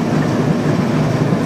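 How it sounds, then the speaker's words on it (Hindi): The Karachi Express, locomotive DU 49036, running through Sahiwal railway station gives a loud, steady low rumble of rolling train noise up close, brief and continuous with no talk. "ये DU 49036 जो कि कराची एक्सप्रेस 15 आपको कराची से लाहौर लेके जा रहा है"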